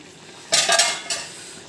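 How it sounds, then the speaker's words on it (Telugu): A close metallic clatter as a lid is lifted off a pot of prawn, raw cashew and egg curry, followed by a second brief clink against a faint background hiss. "ఒక్కసారి మూత తీసి చూద్దాము"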